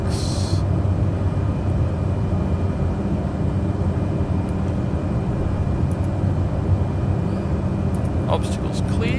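Aircraft engines climbing after takeoff on a Martel Air flight, a steady loud broadband roar heard from inside, with a voice talking over it.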